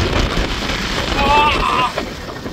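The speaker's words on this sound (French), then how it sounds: "Là on va attendre une rafale." Wind gusts across a mountain summit during a hike with a bivouac, blowing steadily and loudly into the microphone with a rushing roar that swells near the middle and then eases.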